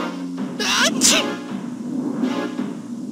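A single sharp sneeze bursts out close by, with a quick inhaled build-up before it and faint low voices around.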